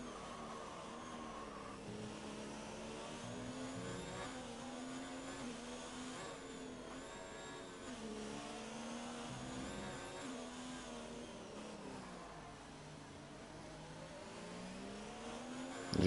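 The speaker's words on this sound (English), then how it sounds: "As you can hear, the rev limiter being hit there by Blunt" Racing car engine in F1 2019 bouncing off the rev limiter at the Australia round, a steady buzzing drone with rapid stuttering pitch wobble, loud and continuous throughout.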